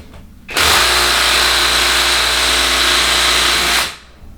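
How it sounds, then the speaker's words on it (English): A cheap impact wrench rattles loudly in one continuous burst of about three seconds on a Toyota 7MGTE engine, starting and stopping abruptly with no talk. "Time to see if my cheap rattle gun's got enough guts."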